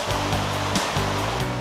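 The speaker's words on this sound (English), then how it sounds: "the engine can also spray thousands of gallons of water through the use of a nozzle called a monitor" A fire engine's monitor nozzle sprays a heavy, steady roar of water, loud and unbroken, with a low engine hum underneath.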